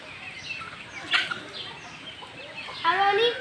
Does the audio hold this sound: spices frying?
no